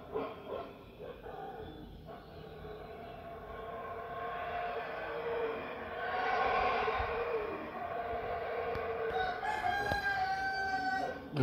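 A rooster crows repeatedly at moderate distance in Chiapas, Mexico, its calls rising over a steady outdoor background with howler monkey cries and a dog barking faintly.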